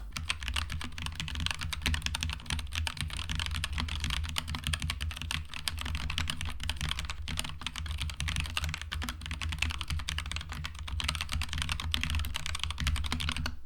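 Steady, continuous typing on an Endorfy Thock Compact mechanical keyboard, dense rapid keystrokes clattering close and evenly throughout with no talk.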